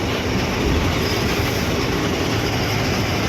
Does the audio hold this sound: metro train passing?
yes